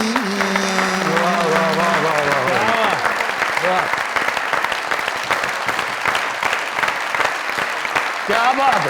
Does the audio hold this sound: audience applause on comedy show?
yes